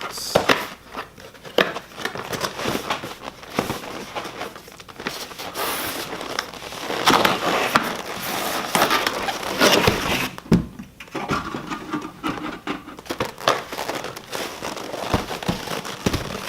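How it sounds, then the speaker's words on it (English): A makeshift unboxing knife slicing open packaging around a DJI Phantom 4 styrofoam case, with dense crackling, rustling cuts and crinkling plastic close to the microphone, continuous with brief pauses and no talk. "Got a little makeshift unboxing knife here. Cut here."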